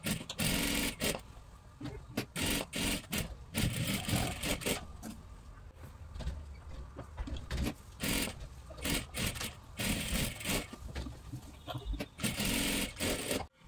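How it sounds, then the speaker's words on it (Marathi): A sewing machine runs a double line of stitching along a dress shoulder seam near the neckline, in close bursts of whirring broken by short pauses and handling of cloth. "पूर्ण डबल शिलाई मारून घ्यायची आहे."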